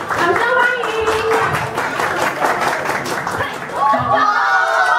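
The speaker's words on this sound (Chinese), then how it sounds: "掌声欢迎！" Students and audience clapping to welcome performers at a school play, rapid continuous applause mixed with cheering voices and speech throughout.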